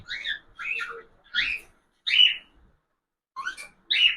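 A string of shrill cockatiel chirps and whistles, close by, coming in uneven bursts with a brief pause before the last two.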